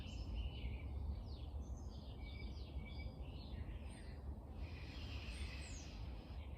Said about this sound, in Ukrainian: Чуєте птахів?